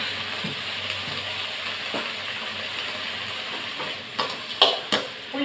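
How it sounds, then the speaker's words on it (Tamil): Rasam ingredients sauté in oil in a pan with a steady, close sizzle, broken by a few sharper clinks and scrapes of stirring toward the end. "இதில் எண்ணெய் ஊற்றி தான் நான் வதக்குறேன்."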